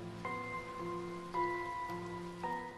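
Steady rain hiss in the Sword Art Online: Hollow Realization video game, running continuously beneath louder sustained musical notes from the game's soundtrack.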